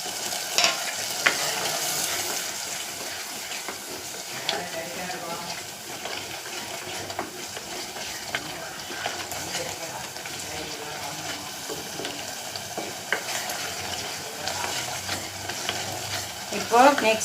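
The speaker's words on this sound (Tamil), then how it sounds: "இப்போ அதுவும் அந்த எண்ணெயில் நல்லா அது வதங்கி வரட்டும்." Spice powders (chilli, coriander, fennel, cumin, turmeric and masala) sizzle steadily in hot frying oil while being stirred, with a continuous close frying hiss and frequent scraping strokes of the spoon for the whole stretch.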